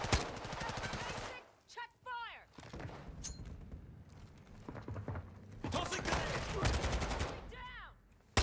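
Gunfire in Call of Duty Modern Warfare 2: loud bursts of rapid automatic shots in several volleys with short gaps, heard alongside other game sounds and excited talk.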